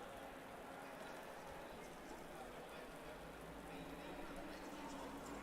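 Steady medium rain in a sim racing game at Donington Park, a dense, even hiss of drops that holds unbroken throughout with no break or swell.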